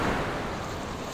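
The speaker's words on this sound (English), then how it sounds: "Peterson's inattention allows the waters to burst over the boat as it hits the waves sideways" Storm waves bursting over a boat in an audio drama, a broad rushing wash of water and wind, loud at first and easing slightly, with no voices.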